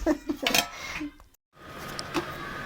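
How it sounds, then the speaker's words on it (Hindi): Breakfast dishes are washed in a home kitchen: pots and plates clatter and cutlery clinks in quick bursts, close by, with a brief pause midway and faint talk around it. "इधर हो रहे हैं साफ बर्तन नाश्ते वाले"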